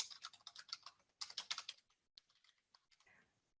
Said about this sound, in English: To translate, we just type our translation.